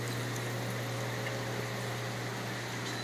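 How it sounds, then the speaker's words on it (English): Water and air circulate in hydroponic pots for a cannabis grow, giving a steady, quiet bubbling hum with a constant pump drone and no talking. "you can see the water and the air circulating in there"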